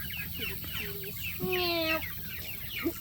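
Chickens cluck and squawk close by in a busy, overlapping burst of calls, with one longer drawn-out cry in the middle and no clear speech.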